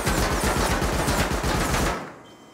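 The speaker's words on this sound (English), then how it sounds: "No, he's shooting the ladder." Rapid automatic gunfire from the video game Rust, a dense continuous burst of shots lasting about two seconds before cutting off abruptly, loud and close.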